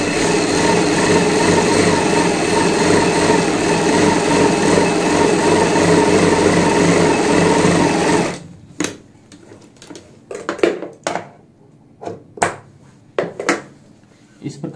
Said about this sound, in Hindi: ऊपर की साइड भी सिलाई लगा लेंगे